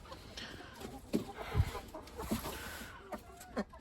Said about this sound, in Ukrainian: Це мої самі менші курчатка.